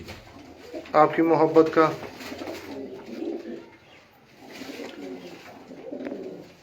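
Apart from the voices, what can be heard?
Sialkoti pigeons cooing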